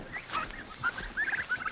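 Farm turkeys gobble in quick, warbling bursts, several overlapping calls rising and falling close by, with no talking.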